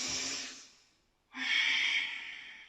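Two long, airy breaths during a warm-up exercise routine, an exhale fading out and then a fuller inhale after a short pause, close and clear with no talking.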